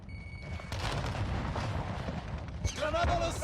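Grenade blast in Call of Duty Warzone 2, a booming explosion near the end of a stretch of game noise with gunfire and faint talk underneath.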